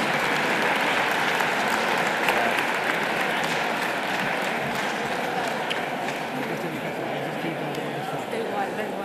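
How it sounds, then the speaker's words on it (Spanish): Sustained applause from an audience at a FITUR tourism fair evening event, steady dense clapping filling the whole stretch at a fairly even level, with faint voices mixed underneath. "hay que darle un gran aplauso a Nava Castro"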